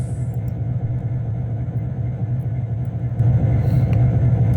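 Heavy locomotive rumble from Trainz Railroad Simulator 2019 on the NS Detroit District route, a steady deep drone that swells louder after about three seconds, with no talk.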